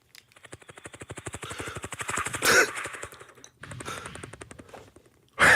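A man imitates a helicopter with his voice, a rapid rhythmic chopping pulse that speeds up, falters, then resumes for several seconds before ending in a sharp burst of breath.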